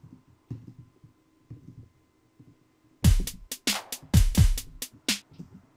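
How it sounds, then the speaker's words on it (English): After a few quiet seconds, loud punchy drum hits play in quick triplet groupings, heavy low thumps with bright cracks, fairly close. "maybe this is what triplets would sound like"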